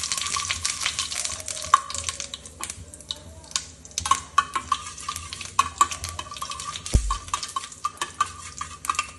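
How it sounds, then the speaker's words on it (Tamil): Mustard seeds and urad dal sizzling in hot oil in a pan, a steady light crackle with scattered sharp pops and occasional stirring clatter, close and moderately loud. "கடுகு இதுவானோடனே உளுந்து போட்டுட்டு உளுந்து வதக்கி விடுவோம்"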